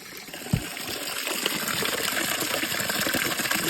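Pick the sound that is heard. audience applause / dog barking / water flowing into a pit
water flowing into a pit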